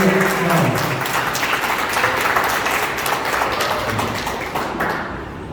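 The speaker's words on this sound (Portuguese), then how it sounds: "Dê um aplauso para Jesus e recebamos com carinho nosso pastor." A church congregation applauds during a worship service, with steady, dense clapping filling the hall for several seconds and slowly fading toward the end.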